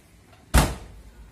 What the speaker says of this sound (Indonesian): Dan sekarang akan kita coba tutup pintu.